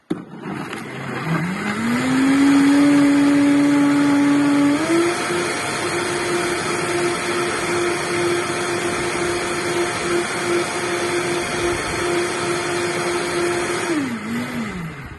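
A blender making a gut-healing smoothie whirs up to speed, runs at a loud steady whine, briefly steps higher in pitch, then spins down at the end.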